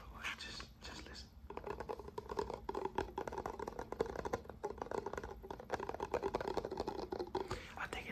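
Fast fingertip tapping and scratching on the cardboard lid of an empty Krispy Kreme donut box, a dense, continuous rain-like patter close up, with soft speech audible at moments.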